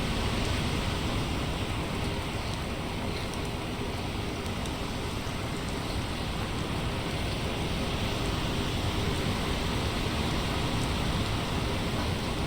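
Steady rain in the sailing game Sailwind, a dense, even hiss that continues unbroken at constant loudness with no voices.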